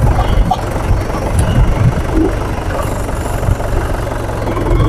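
An old, long-used tractor engine runs in third gear with a loud, steady low throbbing drone, close by and unbroken for the whole stretch.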